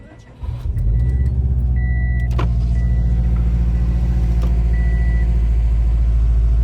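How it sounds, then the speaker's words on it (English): A Subaru WRX boxer engine cranks and starts, then settles into a loud, steady low idle rumble, heard close up with a few faint high beeps over it. "I just love that sound of the engine on this boxer engine"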